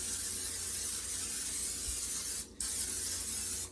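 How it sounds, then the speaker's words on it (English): Cooking spray hisses steadily from a can into a bundt muffin pan, a loud, close, continuous spray that breaks off briefly near the end before resuming. "Okay, I'm gonna spray that down."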